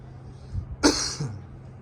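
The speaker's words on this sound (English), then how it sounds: "Let me just do a quick small cough" A single short cough, close and fairly loud, followed by a faint softer throat sound in otherwise quiet surroundings, on a walking tour in Jim Thorpe, Pennsylvania.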